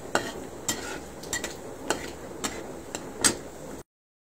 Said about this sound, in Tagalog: Dapat continuous lang ang halo. Para hindi siya masunog.